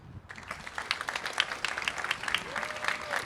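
An audience at a women entrepreneurs' summit in Dubai applauds a speaker, dense clapping that starts abruptly and holds steady at moderate volume, with faint voices underneath.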